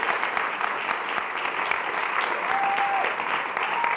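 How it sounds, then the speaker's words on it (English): An audience applauds an award recipient at a Martin Luther King Day celebration in Manchester, New Hampshire, a steady even patter of many hands clapping throughout, fairly close and loud. "let's start out with first a round of applause for Dottie"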